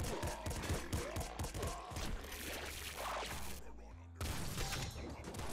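Video game gunfire in Nuclear Throne sounds as a quick burst of sharp shots, fired by spamming shoot with a golden bouncer SMG. Thuds and mechanical clatter follow, then a brief dropout and a return of dense game noise.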